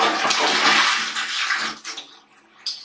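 A toilet flushing in a wet-room style bathroom of a boutique beach hotel in Thailand, a loud, steady rush of water that swells and then tapers away into quieter gurgling near the end.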